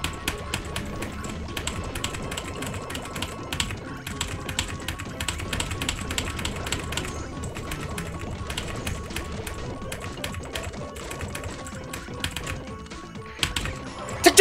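Rapid, relentless mashing on a computer keyboard during a fast-paced game, dense clattering keystrokes in a continuous stream, close and fairly loud, ending with a few sharper hits.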